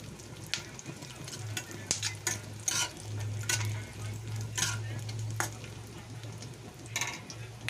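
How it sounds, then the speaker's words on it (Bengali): Cashews and char magaj frying in white oil in a pan over a low gas flame, with soft continuous sizzling and repeated close scraping and clinking of a spatula against the pan. "আর কাজু ফ্রাই করে নেব"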